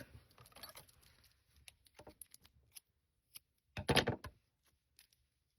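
Crochet yarn is snipped with scissors, giving a short, crisp cutting sound near the end. Light handling rustles and small clicks come before it, and the room is otherwise quiet.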